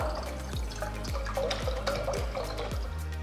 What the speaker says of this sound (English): To a pot, pour enough water.